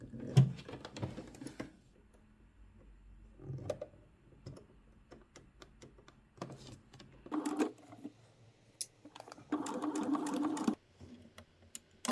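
A sewing machine topstitches a trench coat seam near a corner in short, separate bursts of rapid needle ticking with quiet pauses between runs.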